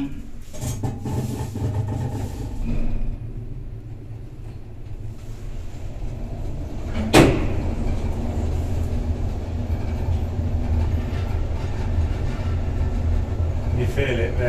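An express lift car travels through a test tower with a steady low rumble and a faint rhythmic jitter from flat spots on its rubber wheels, with a sharp clunk midway, while people talk quietly.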